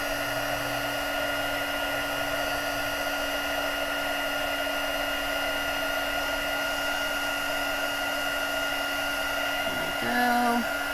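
Heat embossing tool blowing a steady, loud whir of hot air over floral stamped cardstock, a continuous fan hum that holds evenly, then a brief clatter as it is set down near the end.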